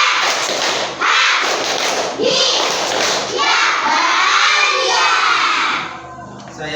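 A class of students does a rhythmic group clap, loud thumping claps mixed with children chanting and shouting together in a lively, crowded room.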